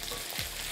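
Floured char fillet sizzling in a hot pan, a dense, steady frying hiss heard briefly and close, with no voices.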